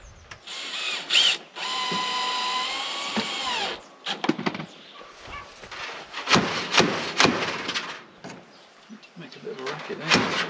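A power drill whines in a sustained high burst during chicken coop construction, then gives way to short clattering knocks and handling noises of the build; voices talk in the background.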